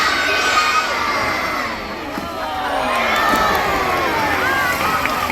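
At a seal show, a crowd of children shouts and cheers loudly and continuously for a seal named Diego jumping, with high excited voices and whoops that dip briefly and then swell again.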